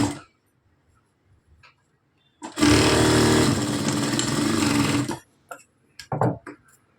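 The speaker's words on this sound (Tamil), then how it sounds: "அப்படியே ஒரே ஈவனாக வச்சு அப்படியே ஸ்ட்ரெயிட் தையல் போட போகிறோம்" A sewing machine stitches a straight side seam on a blouse, its steady motor whir running for about two and a half seconds. Quiet handling taps and fabric sounds come before and after.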